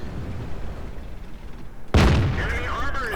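Tank cannon fire in a World War II tank video game, a single loud, sharp boom after a quiet stretch of ambient hum, followed by a ringing, whistling decay.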